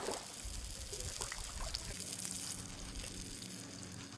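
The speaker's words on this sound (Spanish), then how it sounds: "Lo voy a lavar un toque en el río." Faint trickling and splashing river water as tomatoes are rinsed outdoors by the riverbank, a steady soft wash of water with no talking.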